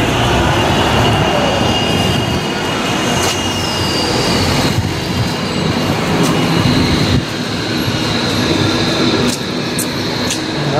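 A city tram rumbles loudly past close by, with a constant heavy rolling roar, intermittent wheel clicks and a thin metallic squeal.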